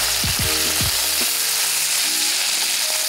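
Eggplant and eggs frying together in a pan, a steady loud sizzle with a few low knocks of stirring early on, no voices.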